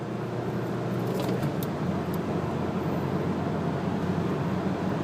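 An Isuzu D-Max diesel engine held at full throttle while starved of fuel by a clogged filter gives a steady, continuous low droning roar that stays loud and unchanging throughout.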